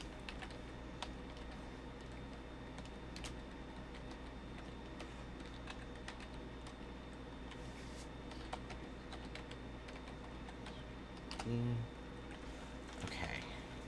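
Computer keyboard typing at a desk, scattered quick key clicks, soft and close, continuing in irregular bursts over a steady low room hum.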